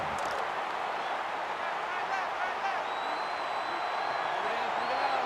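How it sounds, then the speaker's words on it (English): Loud, steady stadium crowd roar in the NCAA 14 college football video game, a continuous wash of cheering and noise throughout, with a voice talking over it. "It's arguably the loudest crowd in the nation, and they are turning it up a notch."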